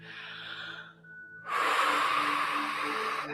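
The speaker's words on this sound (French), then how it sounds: "Grande respiration ici." A person seated on a chair during a back-stretching exercise takes a long, deep breath, heard as a close, loud airy rush that follows a softer, sustained lead-in and holds steadily to the end.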